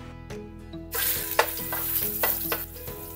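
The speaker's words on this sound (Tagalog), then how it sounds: "Magigisa muna tayo ng luya." Ginger hits hot oil and starts sautéing for paksiw, a sudden sizzle that rises after a quiet start and keeps hissing steadily with stirring clinks and scrapes in the pan.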